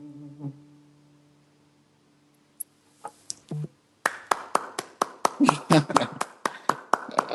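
After a quiet stretch with a low hum and a few taps, a small group starts clapping, sharp uneven claps building for several seconds.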